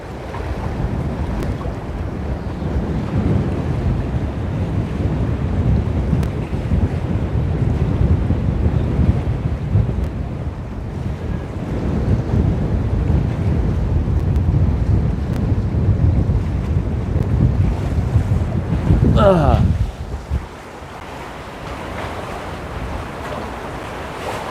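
Strong wind roars steadily across the sea at Busselton, Western Australia, during a storm while fishing, buffeting the microphone with dense, loud gusts and waves, easing slightly near the end.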